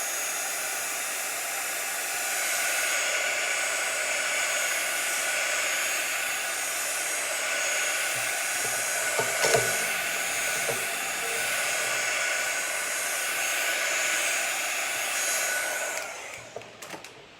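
A hair dryer or heat tool runs for a long, steady blast to dry ink on card for a stamped card, with a brief knock midway before it shuts off and leaves a few soft clatters.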